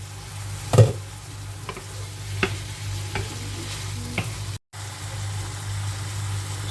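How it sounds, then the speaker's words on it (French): Fish sizzles steadily in a hot pan, with a few sharp clinks and scrapes of utensils scattered over the frying. "le poisson, on le laisse bien griller"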